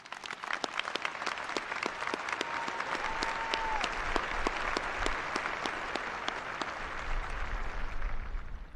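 Steady applause from a large audience at the 2021 US Air Force Academy graduation ceremony, sustained dense clapping at a moderate distance throughout with no speech over it.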